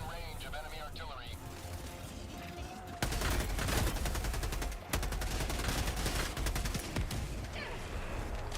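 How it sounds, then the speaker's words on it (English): Video game gunfire and explosive bursts during combat under enemy artillery, loud and continuous with sharp onsets at about 3 and 5 seconds, mixed with a game voice and talking. "Warning, you are in range of enemy artillery."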